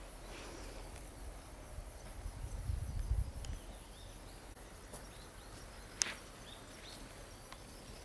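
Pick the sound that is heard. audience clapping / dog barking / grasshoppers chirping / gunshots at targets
grasshoppers chirping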